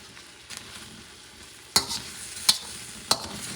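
A Thai vegetable stir fry with sauce, sugar and cornstarch sizzles steadily in a pan, a soft constant fry broken by three sharp clanks of tossing or scraping, no voices.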